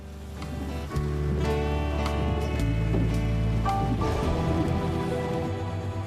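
Heavy rain from a thunderstorm lashes an airliner during the approach to an airport, a steady loud roar of drumming and hiss that swells in and holds throughout, with no voices.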